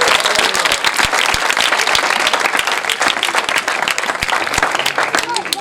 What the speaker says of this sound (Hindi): मैं चाहूंगा मेरी बहनों के लिए तालियां बजाओ